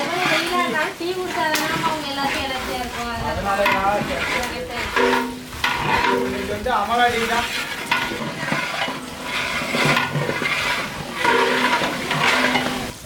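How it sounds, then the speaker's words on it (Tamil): Tomatoes sautéing for chicken biryani, with steady frying sizzle and scraping spoon stirs in the pan, close and prominent while a person talks over the cooking. "பிரியாணிக்கு தக்காளி எங்க நல்லா வதங்கிடுச்சு"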